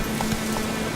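Roach the horse galloping in The Witcher 3, quick clip-clop hoofbeats under a steady noisy wash, brief and fairly close, no talk.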